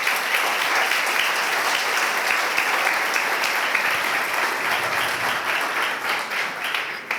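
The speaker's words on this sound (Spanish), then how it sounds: "Dale un aplauso fuerte al Señor." A church congregation gives loud, sustained applause during a prayer service, dense and continuous at full level throughout, easing slightly only near the end.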